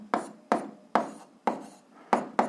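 A physics problem answer being handwritten: six short, scratchy strokes in an uneven rhythm, close and fairly quiet, each a quick rasp that fades, with no voices.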